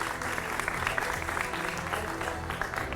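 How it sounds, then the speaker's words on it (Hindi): Studio audience applause rising to welcome a guest on a Hindi TV news debate show, a dense continuous wash of many hands clapping at steady loudness for the full stretch, with no voices over it. "विवेक श्रीवास्तव जी का भी जोरदार तालियों से स्वागत कीजिए।"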